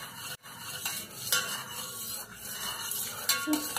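Lemonade juice stirred in a vessel by a child, with a spoon swishing and clinking against the sides in a continuous, moderately quiet rhythm.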